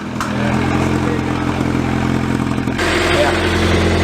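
A scrap-yard Honda Prelude engine runs loud and close with a rough, uneven clatter, and a sharp burst partway through suggests a backfire before the running steadies again.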